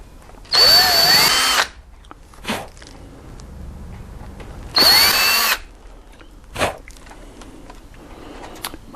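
Power drill boring a hole through solid wood during a crash repair: two loud, steady whirring bursts about a second each, separated by quiet gaps with small knocks and handling clicks.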